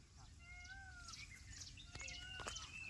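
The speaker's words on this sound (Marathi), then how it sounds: "मोर वरट्टे बघा" Peacocks call from the forest while wild shevla is gathered, a series of wavering, drawn-out cries at moderate distance over steady outdoor background noise.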